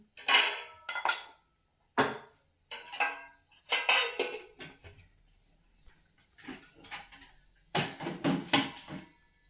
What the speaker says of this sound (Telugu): ఇలాచి రెండు దంచేసుకుంటాం ఫ్రెండ్స్ ఫ్లేవర్ కోసం